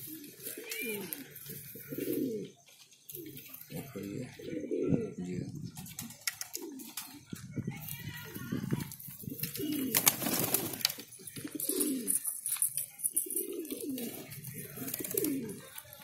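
Large breeder pigeons in Bhopal cooing in repeated low, throaty bursts throughout, close and clear, with someone talking over and between the calls.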